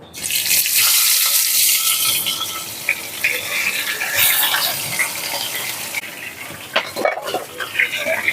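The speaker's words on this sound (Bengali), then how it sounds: "দেখুন আমাদের তেল গরম হয়ে গেছে এবার আমরা একটা একটা করে এর মধ্যে মাছ দিয়ে দেবো" Fish slid one by one into about 100 grams of hot oil in a pan: a loud, close sizzle bursts at first, then settles into a steady frying hiss with a few utensil clatters.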